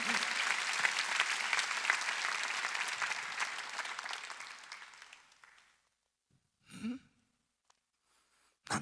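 A church congregation in a large arena hall claps together at a Sunday worship meeting, a dense, moderately loud burst of applause that fades out after about five seconds, leaving near silence with a couple of faint sounds.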